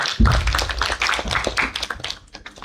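Audience at a youth conference clapping together in a dense, steady burst of applause that swells at the start and thins toward the end, fairly loud and close.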